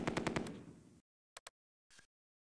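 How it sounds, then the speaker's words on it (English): Machine gun fire in the World War II strategy game Close Combat II: a fast burst of five sharp shots, then two quick isolated shots and a short rattling burst, all distinct against silence, with no talking. "As soon as the MG opened up."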